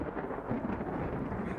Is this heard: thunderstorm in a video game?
yes